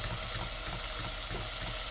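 Garlic frying in a pan previously used for cooking fish, a steady, even hiss of sizzling oil with no breaks, moderately soft and close.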